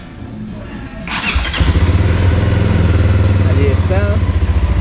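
A Voge 300 DS adventure motorcycle with electronic fuel injection starts up with a short starter whir and catches. It settles into a loud, close, steady idle at about 1500 rpm, with a brief spoken remark over it.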